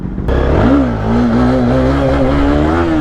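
A Honda CBR300R single-cylinder motorcycle with a loud aftermarket exhaust revs up hard and holds a high, droning engine note, close and loud, with no talking.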